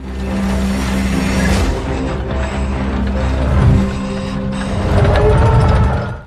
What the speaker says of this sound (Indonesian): Saat John terus memutar tuas bidikan laras tank untuk memindai area, pandangannya akhirnya menangkap sosok Dayon